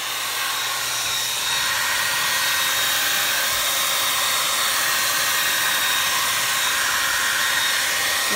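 A hair dryer blows steadily on tie-dyed coffee filter paper butterflies. It gives a continuous loud whooshing hum that is close and unbroken for the whole stretch, with no one talking.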